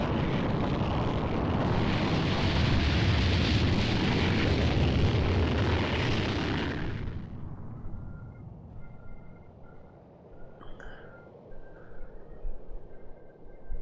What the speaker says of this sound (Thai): อาเบยิต้า อ๋อระเบิดร่างกายแล้วก็ร่างกายแหลกปุ๋ยผงเลยนะครับ